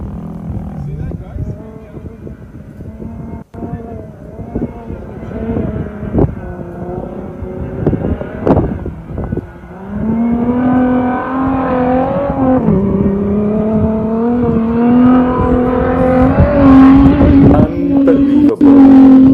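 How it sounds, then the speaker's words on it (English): Dakar Rally 2022 vehicle on stage 8 revving its engine as it crests a dune edge, the throttle rising and falling in loud surges before a sustained high roar, with someone talking over it throughout. "Listen to the throttle as he goes over the edge of this dune"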